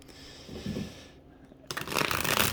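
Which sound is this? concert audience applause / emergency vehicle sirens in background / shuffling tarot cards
shuffling tarot cards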